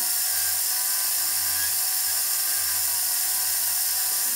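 A rotary burr carving a signet ring, heard as a steady, close, high-pitched whine that rises slightly in short pulses as the tool presses in.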